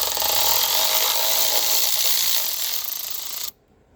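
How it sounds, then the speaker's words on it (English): A ratcheting stud extractor works a stud out on a 2000 Honda Accord, giving a loud, steady mechanical whir that fades slightly and stops sharply near the end. "it basically removes the stud without damaging it"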